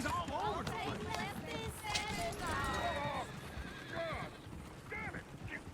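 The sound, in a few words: horses whinnying in video game Red Dead Redemption 2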